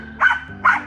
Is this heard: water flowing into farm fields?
no